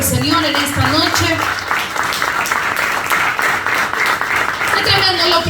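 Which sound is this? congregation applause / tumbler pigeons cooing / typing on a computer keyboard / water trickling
congregation applause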